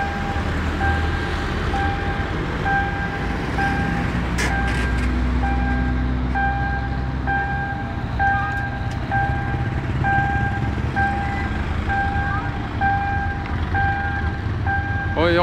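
An electronic railway crossing warning bell in Chiang Mai dings in a steady, regular rhythm as barriers close, over a rumbling outdoor background of traffic and an approaching train.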